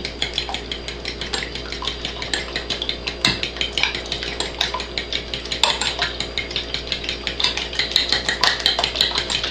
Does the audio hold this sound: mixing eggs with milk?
yes